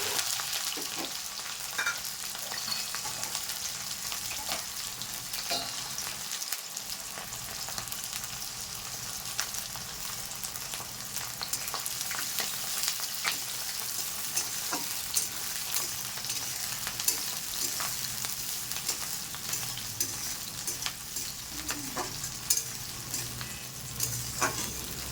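Onion, tomato and green chili fry in mustard oil with cumin, bay leaf and kasuri methi, giving a continuous loud sizzle with scattered spoon clicks and scrapes throughout, without any talking.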